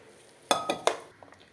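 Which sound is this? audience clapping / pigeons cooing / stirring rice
stirring rice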